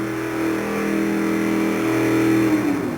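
A 1958 Ford truck's engine revs hard during a truck pull at an arena event, a loud, sustained mid-pitched roar with strong tonal harmonics that climbs and wavers over about three seconds.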